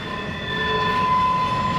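A Norfolk Southern southbound intermodal freight train rolls past steadily in Marion, Ohio, a loud continuous rumble with faint wheel squeal tones over it.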